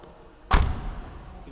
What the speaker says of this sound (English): if you listen to the solid door